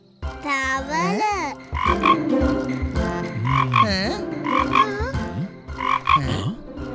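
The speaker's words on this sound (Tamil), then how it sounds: "தவளை வந்தது, மழையும் வந்தது." Animated frog croaks sound several times in a children's cartoon scene about rain arriving, with swooping cartoon effects and voices around them.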